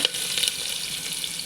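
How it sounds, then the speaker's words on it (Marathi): Chopped onion and curry leaves frying in a pan for vegetable rice, a brief close sizzle with light crackling, quiet and unbroken, no talking. "छान फ्राय होऊ द्यायचे."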